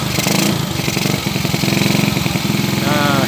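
A Supra 100cc motorcycle engine, just fitted with a new cylinder head, starts and settles into a steady mid-pitched idle. The close, continuous putter runs throughout, with voices audible around it.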